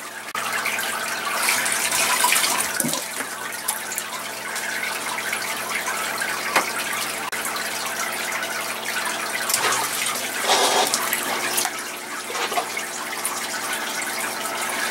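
Water squirts and gushes from a tap or sprayer in an indoor setting, a continuous splashing rush with a few louder surges, steady and fairly close, with no talk over it.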